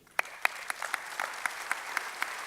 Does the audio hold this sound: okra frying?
no